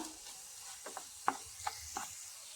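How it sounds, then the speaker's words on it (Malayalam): Quiet stirring and sautéing in a pan with curry leaves: a soft, low sizzle under a few scattered scraping taps of a spoon against the pan. "കുറച്ച് സമയം ഇത് വഴറ്റി കൊടുക്കണം"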